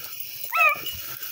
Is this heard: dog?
yes